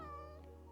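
Video game cats meowing in a short, steady tonal call with rich harmonics, moderately loud and alone, with a faint game music bed underneath.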